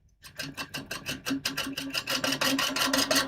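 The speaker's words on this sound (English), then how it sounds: "Sanding is going to be awful on this because of the all the voids and everything." A rhythmic rasping of sandpaper against hazel wood spinning on a lathe, quick repeated strokes growing louder and denser, close and alone without voices.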